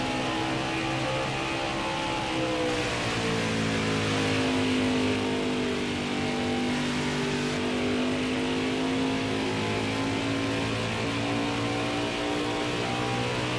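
Race trucks roar around Phoenix Raceway in a Craftsman Truck Series race, a steady loud drone of engines with rising and falling pitch as the pack passes, nobody speaking.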